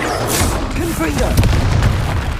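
Confringo fire-spell blasts in the Hogwarts Legacy video game: loud, deep, booming explosions rolling one into the next, mixed with a shouting voice.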